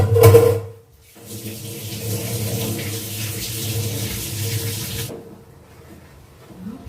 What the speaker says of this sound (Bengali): হাতটা ধুয়ে নি